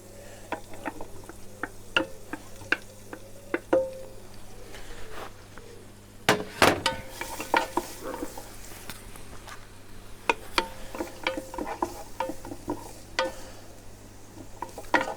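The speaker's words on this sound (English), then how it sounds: "we're going to let the oil sort of saute out of the chorizo" Garlic and chorizo sausage sauté in oil inside a Ninja Foodi, a soft steady sizzle broken by frequent sharp clicks and scrapes of a utensil stirring the pot, close and without talk.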